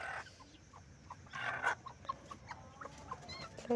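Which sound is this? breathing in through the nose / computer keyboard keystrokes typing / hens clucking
hens clucking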